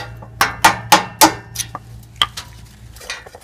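A metal tool taps repeatedly at an old, stuck oxygen sensor gasket on a 1998–2000 Toyota RAV4, giving a handful of sharp, close metallic clinks in an uneven rhythm, then fainter scattered knocks.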